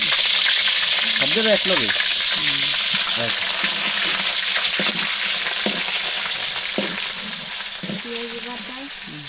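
Onion paste sizzles in hot oil in a wok on a village stove while a duck curry is being cooked. The frying is steady and loud, broken by scraping stir strokes, and a voice speaks briefly over it.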